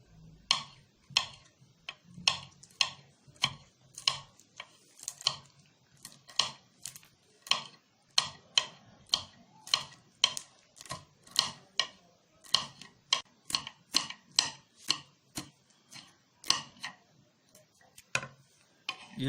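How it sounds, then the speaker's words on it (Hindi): A knife finely chops a green chili on a cutting board in a rapid series of crisp, even taps that continue steadily throughout, close and fairly quiet. "अब हम एक हरी मिर्च लेंगे और इसको भी बारीक बारीक शेप में काट लेंगे।"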